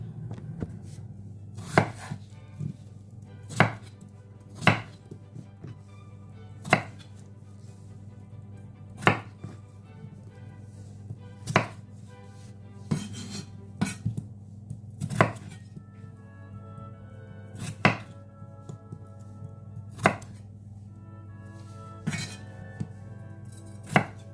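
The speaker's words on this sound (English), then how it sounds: "So I'm just cutting them into some rough cubes like this." A knife chops potatoes into rough cubes for a Jamaican-style cabbage soup, landing in sharp, fairly regular strikes against a cutting board, close and clear with no talking.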